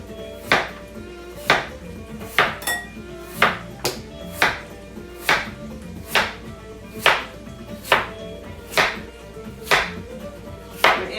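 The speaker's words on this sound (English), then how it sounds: "we're going to take our potatoes and we're going to slice about the same way" A knife slices through potatoes on a cutting board for Dublin coddle, making about a dozen crisp, evenly spaced chops close up with no talking.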